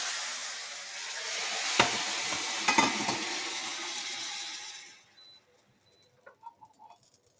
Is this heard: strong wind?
no